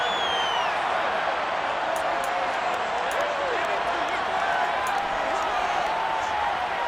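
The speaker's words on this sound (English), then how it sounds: "Plenty of shouts from this crowd as they watch the replay." A stadium crowd at a football game keeps up a broad, continuous roar of shouting as a replay is watched. The noise is steady throughout, with a commentator talking over it.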